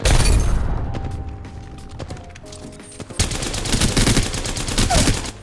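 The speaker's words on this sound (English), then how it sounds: "Firing on subject." Bursts of gunfire in the Apex Legends battle royale game, with loud rapid shots at the start, sparser cracks mid-clip, then a dense volley near the end, with no talk.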